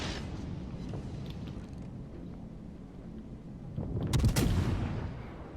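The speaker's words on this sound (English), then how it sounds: "Now the Algeria is firing AP" Naval gunfire from warships in the World of Warships Legends game: one loud, sharp cannon blast rings out near the end over a steady low rumble of engines and sea.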